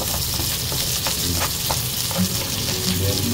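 Garlic sautéing with onion and ginger in a pan for spicy chicken feet adobo, a loud, continuous close sizzle with stirring clatter and spatula scrapes, no speech.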